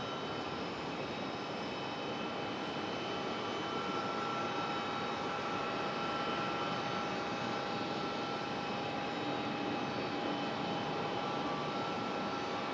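A JetBlue Embraer E190 jet arrives at Raleigh Durham International Airport, its engines producing a faint, steady distant roar with a thin whine that holds for the whole stretch, with no talking.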